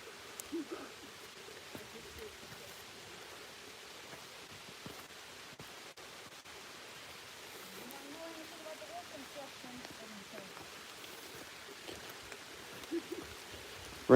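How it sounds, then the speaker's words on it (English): Rain falling steadily on an old rocky road in Luxembourg, a soft, even hiss that continues throughout with faint scattered patters and a few brief sounds. "Rain's picking up a little bit."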